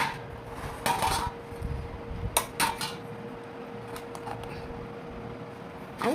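Dishes and cutlery clattering while rice is served onto a plate, a few close clinks and scrapes early on, then quieter handling with occasional light taps.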